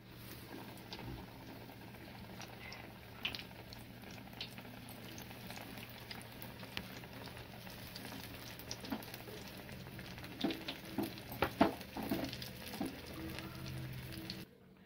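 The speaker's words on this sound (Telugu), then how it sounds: "ఇదిగోండి గార్లెండి వడలు వేస్తున్నామండి. మసాలా వడలు చాలా బాగుంటాయండి." Masala vadas made from gram flour batter with onion and cumin bubble and sizzle faintly in hot oil, a steady low crackle with a few sharper pops toward the end.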